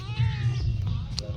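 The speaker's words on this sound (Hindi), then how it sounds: "बिल्ली है, बिल्ली" A cat meows briefly once, close by, near a temple, with outdoor background noise and a little voice around it.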